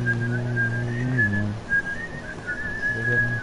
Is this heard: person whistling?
yes